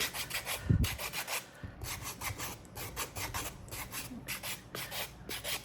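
Sandpaper glued to a piece of EVA foam rubbed by hand along the edges of a baby shoe, a steady back-and-forth rasping scrape in even strokes, close and moderately quiet.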